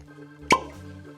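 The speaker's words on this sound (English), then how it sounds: "Judging on the cork pop alone, I'm giving this thumbs up so far." A single sharp cork pop as a bottle of Larceny Barrel Proof bourbon is opened, loud and close, standing alone against a quiet room.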